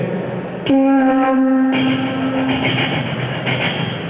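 A voice imitates a train passing close by, opening with a sustained whistle-like tone, then a rushing, rumbling roar with faint rhythmic clacks, performed on stage at a company anniversary event.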